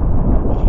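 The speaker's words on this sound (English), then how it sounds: "The wind blowing that hard." Strong wind gusts roar across an open cemetery, a continuous loud buffeting rumble that batters the microphone for the whole moment with no pause.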